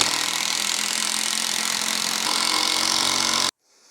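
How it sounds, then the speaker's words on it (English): An impact drill drives screws into wood while building a simple stair gate, a steady loud whirring that runs continuously for about three and a half seconds, then cuts off abruptly into near silence. "And I've got myself an impact drill."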